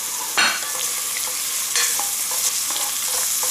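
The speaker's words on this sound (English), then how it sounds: "We're going to saute it just a little bit" Ingredients sauteing in a big five-to-six-quart pot for corn and smoked salmon chowder, a continuous loud sizzle with a few sharper stirring scrapes and clinks, no voices.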